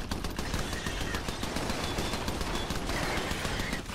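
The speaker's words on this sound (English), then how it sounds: "With machine guns." Machine gun fire in the Iron Brigade video game, a dense continuous stream of rapid shots that fills the whole stretch loudly with no pause and no talk.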